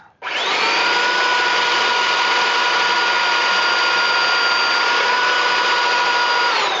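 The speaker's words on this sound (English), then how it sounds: "we're using some pretty rough grit sandpaper, maybe some 60 or something, and we're just trying to get these big grooves out" A brake rotor being sanded with coarse 60-grit sandpaper to remove deep grooves, heard as a loud, steady high whine that starts abruptly and runs unbroken, close by, with no talking.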